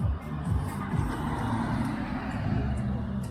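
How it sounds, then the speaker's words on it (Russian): A car pulls up at an amateur timed slalom meet, its engine a steady, close low rumble through the whole stretch, with faint voices around it. "еще одна машинка подъехала к нам"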